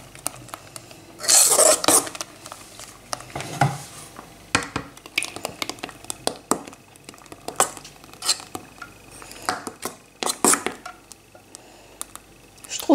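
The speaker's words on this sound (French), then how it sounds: "je l'incorpore en partie et je mélange en même temps." Whipped cream being folded into strawberry mousse in a bowl, with scraping, clinking utensil taps against the bowl and soft stirring, scattered irregularly through the stretch, no talking.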